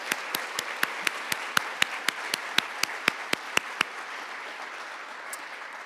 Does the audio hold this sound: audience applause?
yes